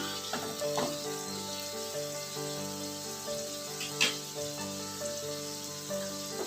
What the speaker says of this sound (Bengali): এইভাবে ঘুরিয়ে ফিরিয়ে আমি জিনিসটা ভেজে নিলাম